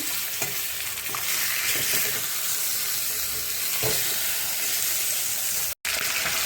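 A fish head frying in a pan while mung dal cooks nearby, a steady broadband sizzle and crackle running continuously with a few stirring scrapes and one brief cut near the end.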